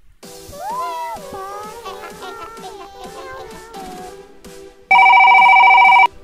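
A telephone rings loudly inside the Roblox game Brookhaven, a steady electronic trill arriving abruptly near the end after a stretch of game music, continuing unbroken for over a second.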